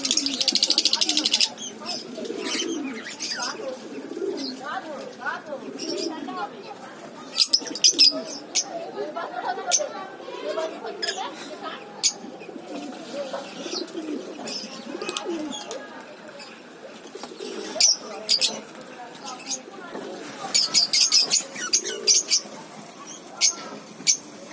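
Lutino cockatiels in a breeding setup give repeated chirps and sharp calls in irregular bursts, close by, over a soft background of quieter bird sounds.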